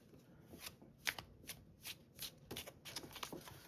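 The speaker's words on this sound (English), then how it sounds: "I'm overhand shuffling." Overhand shuffle of a tarot deck, heard as a string of soft, papery card slaps and flutters in an irregular rhythm, close and fairly quiet, with no talking.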